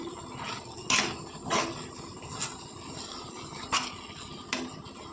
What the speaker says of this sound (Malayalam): ഞാൻ നല്ലപോലെ മിക്സ് ചെയ്യട്ടെ നമ്മുടെ ചക്കയും തേങ്ങയും ശർക്കരയിൽ ഇടുന്ന് നല്ലപോലെ വിളഞ്ഞു വന്നിട്ടുണ്ട്